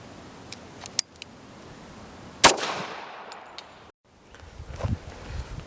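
Kimber 1911 pistol firing at an outdoor shooting range: one sharp, loud report stands out, with a few fainter clicks and handling noises around it and a quiet stretch after.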